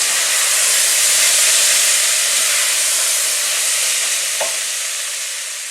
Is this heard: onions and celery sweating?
yes